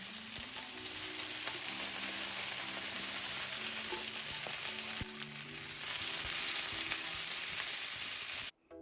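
Quartered tomatoes, a garlic clove and a sliced quarter onion fry in hot roasted-flavor oil, giving a loud, steady, continuous sizzle that runs almost the whole way before cutting off abruptly near the end.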